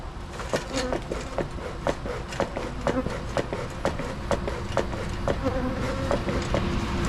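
Honey bees swarm around a beekeeper at a homestead hive, a dense steady buzz close by with sharp repeated ticks and knocks throughout, likely from bees striking the suit or gear.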